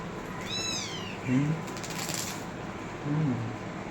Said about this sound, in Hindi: कर रहा मियाऊं मियाऊं।